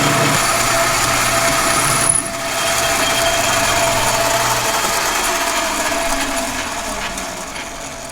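A rumbling machine cuts a metal part down to fit a sleeve while building a 50-ton puller for Caterpillar RD-6 dead axles. The grinding runs loud and steady, dips briefly after two seconds, then carries on and slowly fades.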